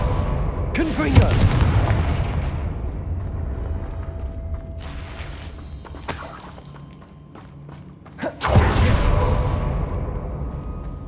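Confringo fire spell cast in Hogwarts Legacy: a sharp magical burst followed by a heavy, rumbling explosion with crackling mechanical debris, repeated a second time near the end, loud and close over continuous background game sound.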